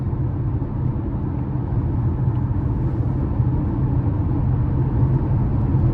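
A 2025 Nissan Kicks SV with a 2.0-liter four-cylinder is driven on the road, heard from inside as a steady low cabin rumble of engine and tire noise that holds even throughout, with no talking.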